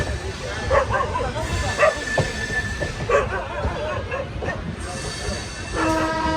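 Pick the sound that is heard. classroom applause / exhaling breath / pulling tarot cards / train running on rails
train running on rails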